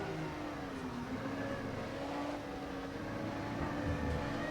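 A race car engine on a hot lap in the Rennsport sim racing game, a steady droning engine note that holds and shifts slightly in pitch throughout, with no talking.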